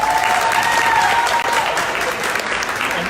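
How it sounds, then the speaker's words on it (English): Steady, dense audience applause fills a justice celebration event, holding at an even, loud level for a few seconds with only a brief dip midway. "let's give them all a round of applause for their time"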